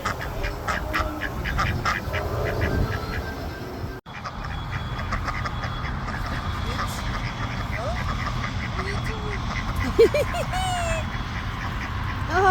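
Ducks quacking at a water park, several calls scattered over a busy outdoor background with people talking nearby.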